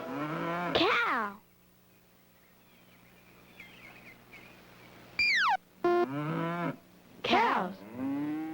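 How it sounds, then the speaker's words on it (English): A cow moos loudly in a long, close call, followed after a quiet pause by several more moos, on a farm with livestock. "Cow."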